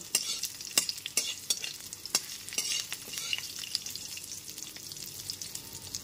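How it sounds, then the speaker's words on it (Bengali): Potato pieces fry in a pan over a medium gas flame, with a soft continuous sizzle and quick repeated scrapes and taps of a spatula as they are stirred close by. "সমস্ত কেটে রাখা আলু টুকরোগুলো দিয়ে দেওয়ার পর গ্যাসের ফ্লেমটা মিডিয়ামে রেখে নাড়াচাড়া করে ভেজে নেব।"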